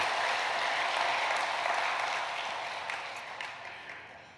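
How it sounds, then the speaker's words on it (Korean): Korean church congregation applauding in thanks to God during Sunday worship, a dense, sustained crowd clapping that gradually tapers off toward the end. "우리 하나님께 감사와 영광의 박수를 올려드리도록 하겠습니다"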